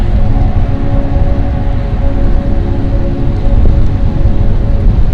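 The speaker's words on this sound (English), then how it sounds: "Wow, that's really windy." Loud, rumbling wind buffets the microphone nonstop, a dense low roar with no voices.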